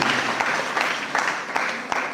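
Congregation at a Jain religious discourse breaks into applause, a steady crowd clapping with a few distinct individual claps standing out, moderately loud and continuous without talk over it.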